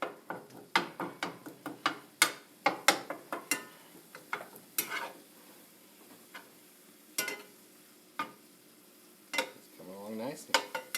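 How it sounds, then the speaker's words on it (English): Meat browns in a pan with a soft sizzle under frequent sharp clicks and scrapes of a utensil stirring against the pan, close and fairly quiet, with no speech. "I'm going to start getting the meat browned off"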